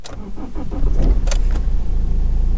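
A diesel BMW 320d engine idles steadily and close by after sitting unused for about ten days, a low continuous rumble with a brief mechanical whir and clicks partway through.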